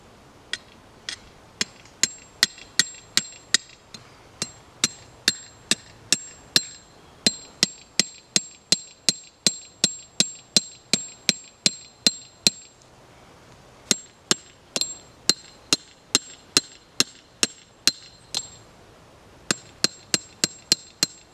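Rebar is driven into garden soil for an arched trellis with a hammer, giving a long run of sharp, ringing metallic strikes at a steady rhythm, with a few short pauses between bursts, close and clear.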